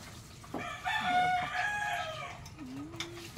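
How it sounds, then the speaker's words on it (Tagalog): Pet chickens kept in front of a house after rain: a rooster crows loudly and nearby, a hen clucks, and a faint outdoor background sits underneath. "Yung sa harap ng bahay namin yung mga alaga namin manok."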